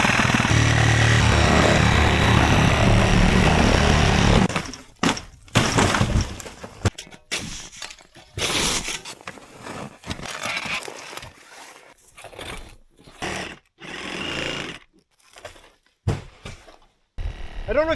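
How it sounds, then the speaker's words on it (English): A Sawzall reciprocating saw cuts through cabin roof rafters during demolition in extreme cold. A loud continuous rasping burst runs for about four seconds, then comes irregular cracking, breaking and knocking sounds in short bursts with pauses. "I don't know if you've ever used a Sawzall before, but I can tell you, they take muscle."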